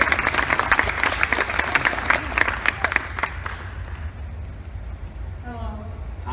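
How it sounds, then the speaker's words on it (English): Applause from a convention panel audience rings out loud for about four seconds, then fades, leaving room tone as someone starts to speak. "Give a round of applause."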